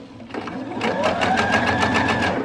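A sewing machine stitches along a pinned seam on a fabric book cover, a close, steady rapid whir that builds up quickly and continues without talking.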